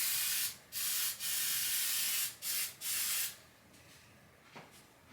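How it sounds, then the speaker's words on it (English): Several sharp bursts of Lysol disinfectant aerosol spray hiss up close, short and long sprays separated by pauses, then fading to quiet room noise. "so I just use Lysol."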